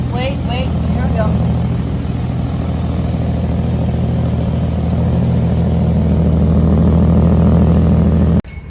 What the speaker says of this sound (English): I have an exhaust leak in multiple positions.